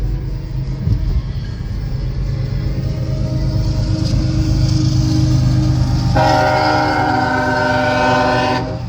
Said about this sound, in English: It's the only place you'll see the horn or hear the horn